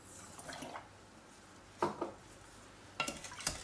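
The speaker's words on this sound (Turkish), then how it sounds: "Karıştırarak şekeri eritin." Sugar being stirred into cold milk with a utensil, making soft scraping swirls followed by a few sharp clinks against the container, close and fairly quiet.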